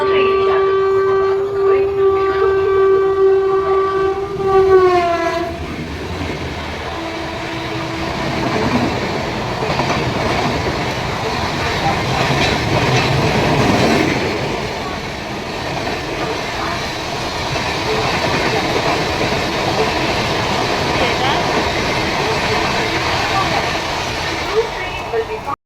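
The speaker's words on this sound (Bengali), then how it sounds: "2 नंबर प्लेटफॉर्म से थ्रू ट्रेन जाए।" A through train running past platform 2 of a railway station, opening with a loud sustained horn blast, then a long rushing roar of wagons and rumbling wheels that stays close and heavy for over twenty seconds.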